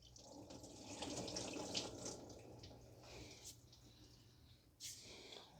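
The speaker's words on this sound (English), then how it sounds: "So it's splashing out." Coolant splashes and trickles out of the removed thermostat housing on a 2010 Toyota Corolla 1.8, a faint close dribble of liquid running steadily with a few small clicks.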